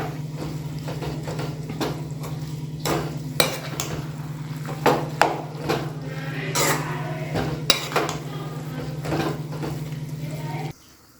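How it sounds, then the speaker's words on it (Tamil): Veg noodles are tossed into masala in a pan over a low flame, with a steady hum underneath and irregular clanks and scrapes of a utensil against the pan, ending abruptly. "நூடுல்ஸை நம்ம மசாலாவில் போட்டு கிண்டி எடுத்துக்கலாம்"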